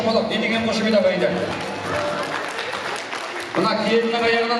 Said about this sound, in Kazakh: Не деген шапалақ, не деген қошемет ағайындар.